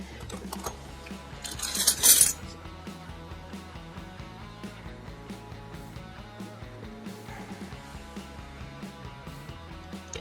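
Silver plate flatware, including a scalloped sugar spoon, being handled, with light metallic clinks and ticks in a steady scatter and a brief louder rattle near the start, heard without talk.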